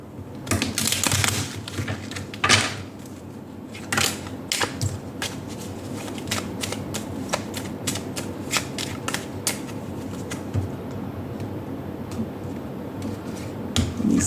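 Making Magic fortune cards being shuffled by hand, a close, steady stream of riffling flicks and soft snaps that continues for a long stretch with no talking.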